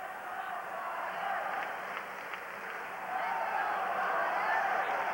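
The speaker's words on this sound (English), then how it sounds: "Flyer fans start to cheer." Philadelphia Flyers fans in a hockey arena during a 1988 game against the Capitals send up a broad, steady crowd roar that swells slightly near the end, with a play-by-play voice talking over it.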